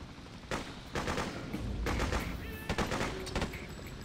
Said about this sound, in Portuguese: Muito boa a submachine gun, hein? Mata todo mundo.